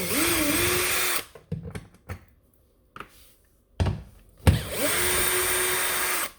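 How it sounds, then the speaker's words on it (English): Power tool spinning out 8mm belly pan bolts on a Mercedes W177 A-Class, with loud whirring bursts at the start and end and short buzzes and clunks between them. "So what we have to do is remove all of these bolts for the main belly pan"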